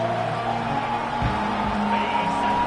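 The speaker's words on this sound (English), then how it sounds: "This crowd trying to make life miserable for this offense." Stadium crowd noise in a college football video game, Michigan versus TCU, a steady broad roar filling the whole stretch with a brief thump near the middle.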